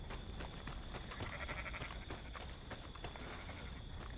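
Horse hooves clip-clop steadily on a farm in the Red Dead Online video game, a dense rhythmic patter set against constant loud background noise.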